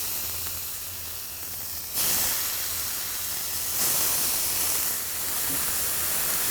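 Food hitting canola oil on a Mojo griddle set atop a kettle grill, a broad steady sizzle and hiss that surges louder in bursts, no voices.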